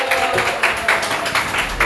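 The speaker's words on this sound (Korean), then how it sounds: "경리 박수 한번 부탁드릴게요" Loud rhythmic clapping from a church congregation at Ansan Bitna Church, claps landing in a steady beat throughout the short burst.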